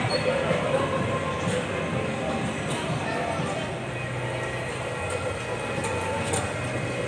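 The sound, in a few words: children's toy train ride moving through a mall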